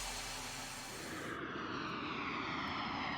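Airplane sound effect in a radio advert aired during a Denver Nuggets basketball broadcast, a loud steady broadband engine roar that shifts in tone partway through and fills the whole clip with no talking.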